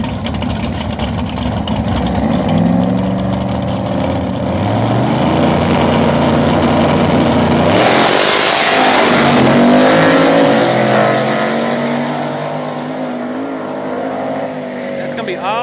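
Small-tire drag race at a backside track in Columbus, Ohio: a nitrous Ford Mustang called Raggedy Ann against a turbo New Edge Mustang, engines revving and rising to a loud full-throttle roar that passes and fades, with an announcer talking over it.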